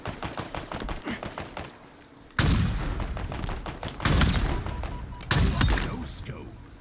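Heavy gunshots from a sniper rifle in Halo Infinite arena multiplayer, a few loud booming reports spaced apart amid lighter rapid game fire, with players talking over the action.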